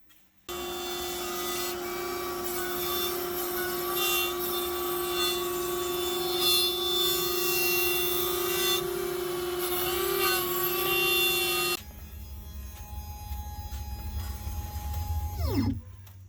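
A CNC router fitted with a 1/4 inch end mill cuts wood with a steady, whining hum and rough grinding that runs for about twelve seconds. The noise then drops to a quieter rumble while the spindle whines down.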